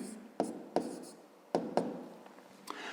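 Numbers are written by hand with a pen on paper while solving a fifth-grade maths equation. Several close tapping strokes and soft scratches come in two pairs, then a lighter tap, quiet and without talk.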